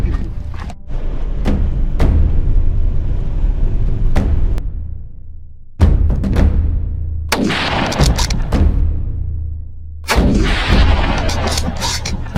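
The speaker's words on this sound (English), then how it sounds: "Seconds later, gunfire resonated from multiple directions" Gunfire during a wild boar hunt in thick forest: several loud, sharp shots and booming thuds crack from different directions at irregular intervals, some close and echoing, over steady background rumble.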